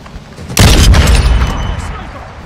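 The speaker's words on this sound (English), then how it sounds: "Throwing Semtex." Semtex grenade exploding in a first-person shooter video game, one sudden loud booming blast after a brief lull, with a rumbling tail that fades over about two seconds.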